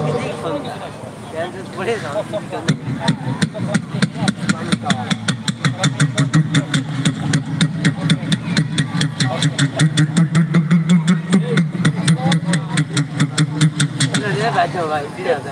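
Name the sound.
voice imitating a boat engine crossing the Atrai river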